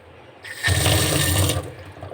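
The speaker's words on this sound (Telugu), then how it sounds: "మనం కూడా ఈ విధంగా సింక్లో వేసి మన వాటర్ దానిపైన పోస్తూ ఉన్నాం అనుకోండి" Water poured into a kitchen sink, a steady gushing splash lasting about a second after a brief lead-in, loud and close, then tapering off; no talk.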